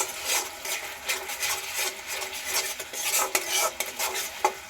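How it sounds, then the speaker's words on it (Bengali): Spice masala for a vegetarian doi potol dish is stirred and fried in a pan, the spatula scraping and clinking against the metal in repeated strokes over a light sizzle. "মশলাটা কিন্তু 7 থেকে 10 মিনিট ধরে আমি কষিয়ে নেব।"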